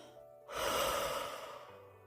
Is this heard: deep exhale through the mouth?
yes